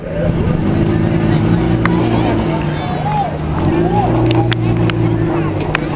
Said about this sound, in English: as we take our figure 8 train cars back into the pit area